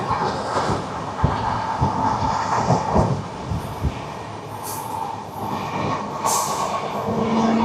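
A passenger train rolls through rainy monsoon countryside, heard from on board: a steady, loud rumble with rhythmic wheel clatter and occasional knocks, continuous throughout, with no voices.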